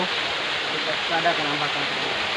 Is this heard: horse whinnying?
no